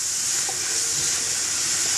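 Spinach and mushrooms being stirred in a pan for a quiche filling, a soft steady hiss of sizzling with faint scraping, fairly quiet and continuous with no talking.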